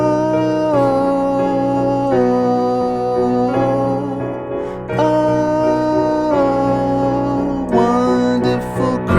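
Solo piano plays the outro of a song, with sustained chords changing every second or two at a moderate tempo and no voice over them.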